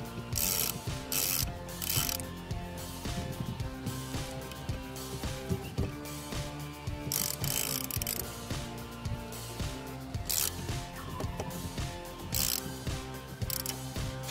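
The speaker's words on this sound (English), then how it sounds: "I'm going to get the ratchet and tighten the nut back down" A ratchet wrench clicks repeatedly as it tightens the steering wheel nut on a classic Opel, a steady run of close, crisp pawl ticks with rhythmic bursts throughout.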